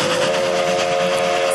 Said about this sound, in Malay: Okey, itu adalah bunyi kereta api.